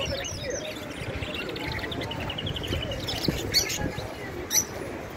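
Pet birds such as budgerigars, canaries and Fischer's lovebirds chirp and twitter in a bird supply shop, a busy overlapping chatter of small calls with a few louder sharp notes near the end.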